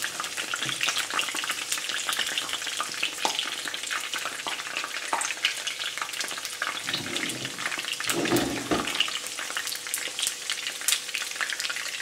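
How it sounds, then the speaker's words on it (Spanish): Green peppers fry in a pan with oil, producing a constant crackling sizzle with scattered pops and a couple of brief stirring or turning sounds, with no talking. "Nosotros los vamos a hacer fritos para acompañarlo."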